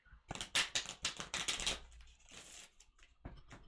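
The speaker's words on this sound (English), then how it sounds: "Okay, a few shuffles, please." Tarot cards being shuffled close up, a quick run of crisp riffling flutters followed by a few softer, scattered card slaps, quiet and without talk.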